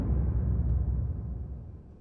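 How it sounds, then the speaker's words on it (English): An explosion sample used in a drum-and-bass production, a deep, heavy rumbling boom that is loud from the first instant and slowly fades over about two seconds, heard alone. "get a sample of an explosion, which is going to sound like this."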